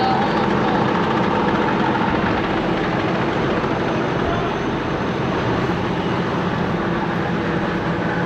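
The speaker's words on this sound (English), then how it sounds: "Raise that chisel plow up, will ya?" Tractor engine running steadily while a chisel plow is raised, a loud continuous rumbling drone close by with no break or pause.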